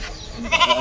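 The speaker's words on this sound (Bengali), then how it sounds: "ছাগল ডাকছে মনে হচ্ছে" A single short goat bleat, close and fairly loud, with a wavering quality near the end.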